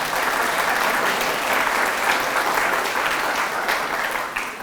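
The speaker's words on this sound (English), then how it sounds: "let's give them a round of applause" An audience gives a round of applause to caregivers at a talk on the care economy, loud sustained clapping from a large crowd that tapers slightly toward the end.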